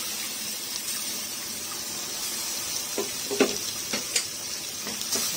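Ground masala paste sizzles in hot oil as a vegetarian meal maker gravy is cooked, a steady close frying hiss with a few louder spatters and crackles, no voices.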